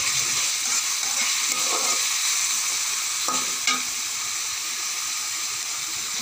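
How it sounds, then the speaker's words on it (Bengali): Prawns fry in a pan with a dense, constant hiss close by, steady throughout, with a few soft scrapes of stirring breaking through the sizzle and no one speaking. "চিংড়ি মাছ দিয়ে ভালো করে নেড়ে চেড়ে নিতে হবে, লাল লাল করে নিতে হবে মাছটা, যাতে ভালো করে ভেজে নিতে হবে।"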